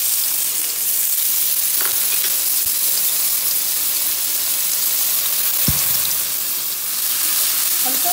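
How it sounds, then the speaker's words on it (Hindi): Chopped onion fries in a pan for kaddu (pumpkin) bharta, producing a loud, dense, unbroken sizzle up close with an occasional light stirring knock. "अब हम इसमें डालेंगे प्याज"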